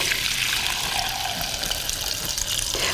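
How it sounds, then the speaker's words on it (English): Herbal tincture pours steadily through a sieve into a glass jug, giving a continuous close splashing gush of liquid with no talk. "I just get a sieve and a glass jug and I end up pouring it in"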